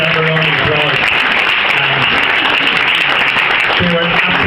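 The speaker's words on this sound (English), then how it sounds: "they deserve a round of applause." Audience applause at a book launch in a Leeson Street house, honouring two pilots: steady, dense clapping from a room full of people, loud and continuous throughout, with a voice speaking over it at moments.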